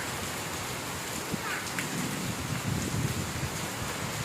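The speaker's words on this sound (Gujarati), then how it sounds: "વરસાદ ચાલુ થઈ ગયો છે" Heavy rain pours steadily outdoors as wind blows, a dense, continuous hiss with no breaks, loud and close.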